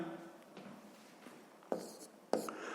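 Pen writing a math task on paper: soft scratching at first, then two sharper pen strokes near the end, close and quiet, with no talking.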